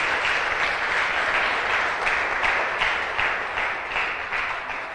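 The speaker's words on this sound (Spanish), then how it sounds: "dale un aplauso al Señor" A church congregation applauds steadily, a dense wash of many hands clapping at an even level throughout.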